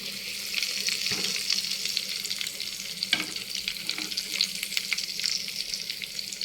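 Chicken pieces fry in a pan with a dense, crackling sizzle throughout, broken by occasional spatula scrapes and stirs, close and steady with no talking.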